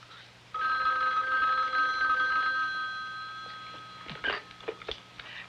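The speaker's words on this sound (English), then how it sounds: "Will you ring Miss Gahan, please?" A telephone rings steadily for a few seconds with a bright electric bell tone, then stops, followed by a few soft clicks and handling noises.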